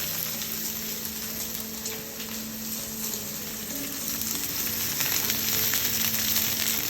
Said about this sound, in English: drop the prawn away from yourself so the oil splashes in the other direction.